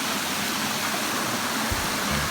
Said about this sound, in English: We finished the waterfall.